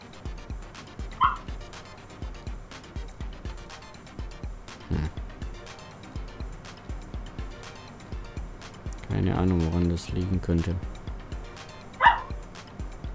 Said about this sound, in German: Ja, da ist ein Hund im Hintergrund.